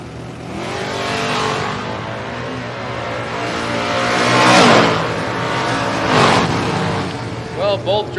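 A Mustang and a Team Tape Camaro drag racing at the Mutt and Jeff Fall Brawl, loud engines roaring and revving near the line with rising surges and a sharp burst near the end, under an announcer's voice.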